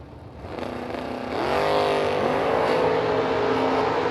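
Foot-braking drag racing cars at the Mickey Thompson Million launch and roar away down the strip, the engine note building loudly and staying at a sustained, heavy roar.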